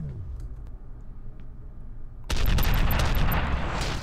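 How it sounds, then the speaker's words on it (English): A rocket launcher fires in the shooter game F.E.A.R., a sudden loud blast after quieter ambience, followed by a sustained roaring burst of explosive noise with crackling debris. "Rocket launcher!"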